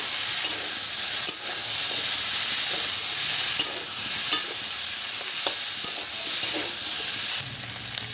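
Poppy seed paste and ginger paste sizzle and fry in a hot pan while being stirred, a steady bright hiss with soft scraping strokes throughout, close and fairly loud.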